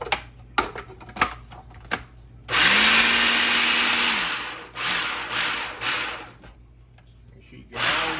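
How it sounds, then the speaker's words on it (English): Food processor pulsing chopped onions and honey ham for old-school deviled ham, a few sharp clacks and then loud whirring bursts of motor noise starting and stopping in short pulses, close-up, with a voice speaking near the start. "we're gonna throw our onions in here and get them pulsed in there as well"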